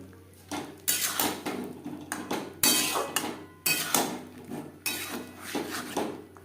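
Fried potatoes and young peas being stirred in a pan for a white potato curry, with repeated clanks and scrapes of a metal spoon against the pan in irregular bursts, moderately close and without talk.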